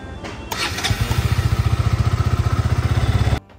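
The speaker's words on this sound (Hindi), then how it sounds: "तो पहले स्टार्ट कर लेते बाइक को।" A KTM motorcycle engine cranks and fires up close by, catching after a brief starter whir and settling into a loud, rapid, even thumping idle before cutting off abruptly.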